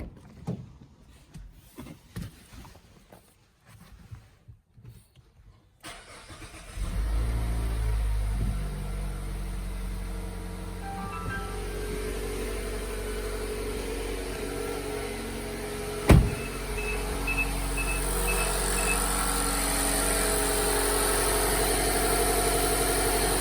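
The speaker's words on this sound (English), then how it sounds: "And then we go ahead and start the vehicle." A 2023 Mazda CX-5 engine starts after an oil change and settles into a steady low idle hum, close and loud, following a few seconds of quiet handling noises.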